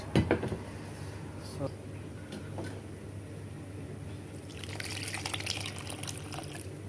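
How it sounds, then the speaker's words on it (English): Fish stock water is poured into a bowl of moi-moi mix, giving a steady liquid splash and trickle that grows louder near the end, while a person talks over it. "I will add it and add the water from the fish, the stock water"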